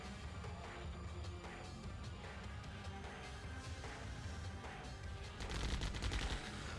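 Dense, continuous rattle of gunfire from miners in the Mental Omega real-time strategy game, a steady crackling fusillade that swells louder near the end, with no talk.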